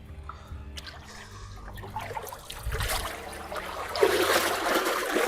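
Fast-flowing water rushes steadily, building louder toward the end, with a broad hiss and trickling splashes close by and no talk over it.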